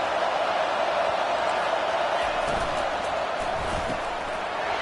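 Stadium crowd in a football video game, a steady, loud wash of cheering and roar filling the whole stretch with no break.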